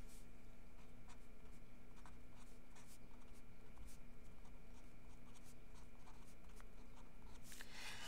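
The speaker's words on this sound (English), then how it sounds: "So let's go ahead and write out the formula that we're going to use." A pen writes out a parabola math formula on paper, giving faint, quiet scratching strokes in a loose rhythm over a low, steady background hum.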